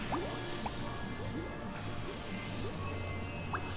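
Water sloshes and drips in a flooded Final Fantasy XIV dungeon, with scattered small droplet plinks over a soft, continuous watery background at low volume.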